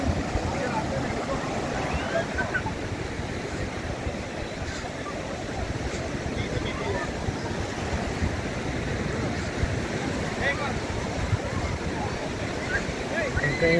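Surf at Kovalam beach in Kerala washes in as a continuous broad rush of breaking waves, steady and fairly distant, mixed with wind buffeting the microphone and indistinct voices beneath.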